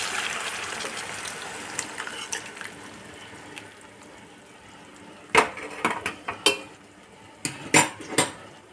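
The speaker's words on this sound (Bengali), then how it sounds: "এবার আমি সেদ্ধ করে রাখা মটরটা এর মধ্যে দিয়ে দিচ্ছি" Boiled peas tipped into a pot of browned masala for matar paneer: soft scraping and a low simmer, then a run of sharp metal spoon clinks and knocks against the pot, close and fairly quiet.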